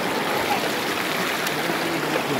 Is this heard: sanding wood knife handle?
no